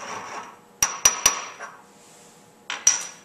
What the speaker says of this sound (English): Crush the salt into finer particles that will make it easier to go into solution.